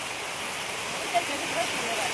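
Heavy monsoon rain pouring down as a dense, constant hiss that fills the whole moment, steady and close, with no clear pauses.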